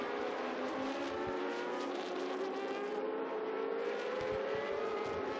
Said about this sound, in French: Eh bien, un dépassement à la régulière, Mr. Genevieve qui récupère une position.